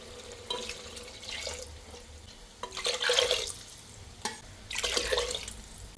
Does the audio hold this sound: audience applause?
no